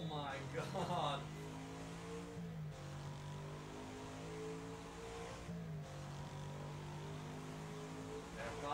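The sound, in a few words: car engine in a driving video game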